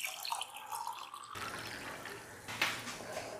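Warm water is poured from a cup onto sugar and yeast in a bowl for pizza dough, a close, steady trickle that swells into a fuller splash near the end.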